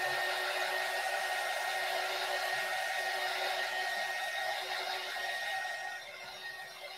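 A hair dryer or heat tool runs steadily for about seven seconds, quick-drying a mixed media craft project. Its constant airy roar stays near and loud, then drops slightly in level near the end with no talk.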